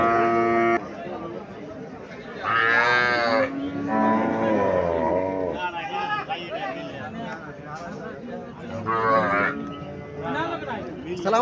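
Cattle moo repeatedly at a cow market in Comilla, long low bellows rising and falling close by, mixed with a busy background of chatter and people talking.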